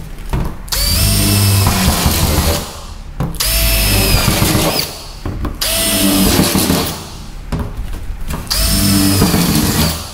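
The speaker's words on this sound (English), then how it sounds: "I'm going to use a step down drill bit" A step drill bit bores holes through a camper van roof for a skylight, four loud bursts of whining, grinding drilling separated by short pauses, close and with no voices.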